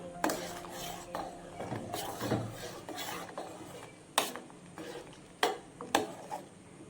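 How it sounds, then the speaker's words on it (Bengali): Yippee pasta gets stirred in a pan with a utensil, making soft scraping rubs and several sharp knocks against the pan, close up and fairly quiet. "এবারে এটাকে ভালো করে একটু নাড়াচাড়া করে দেবো।"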